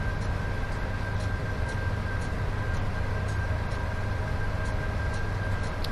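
A Class 86/2 electric locomotive accelerates in Train Sim World 5, giving a steady, continuous rumble and broad rolling hiss with a faint high whine. It stays even in level throughout, with no voices.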